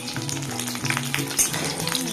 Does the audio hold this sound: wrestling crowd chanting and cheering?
no